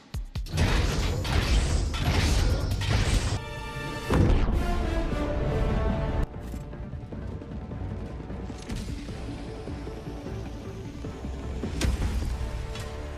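Helldivers drop pod making a hard drop landing: a dense run of mechanical clanks, rattles and metallic impacts with a heavy crash partway through, loud and close, without speech.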